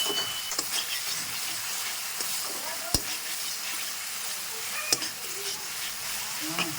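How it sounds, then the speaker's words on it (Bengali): Chopped tomatoes are stirred into spices frying in oil for a rohu fish curry, giving a steady low sizzle with soft scraping and two sharp clicks of a spoon against the pan. "আগে থেকে কেটে রাখা টমেটোগুলো দেবো টমেটো কুচি দিয়ে এবারে নাড়াবো"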